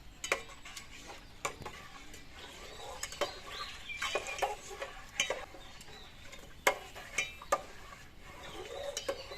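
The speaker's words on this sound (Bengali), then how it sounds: "এবার এই হাঁড়ির জলের মধ্যে আমি আমুল দুধ দিয়ে দুধটা গুলে নিচ্ছি।" Amul milk being stirred into mildly warm water in a pot, with light scraping and tapping of a spoon against the metal in an irregular rhythm, close and quiet, with no talking.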